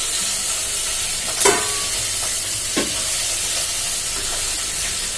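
Steady sizzle of spices, including turmeric, frying in hot oil for a tempering, a continuous hiss with a couple of brief louder crackles and stirring clinks.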